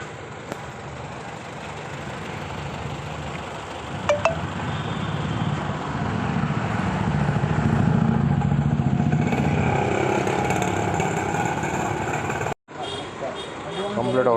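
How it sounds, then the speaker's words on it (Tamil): A Honda Elevate car fitted with a CNG gas kit idles steadily, a continuous close engine rumble with light clatter, while voices talk over it before a brief dropout near the end. "இப்போ மைனூட்டாக இன்ஜின் ஓடிட்டுருக்கு."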